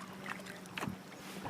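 A kayak glides on water with a couple of soft paddle strokes and splashes, quiet and close, against faint wind noise and no speech.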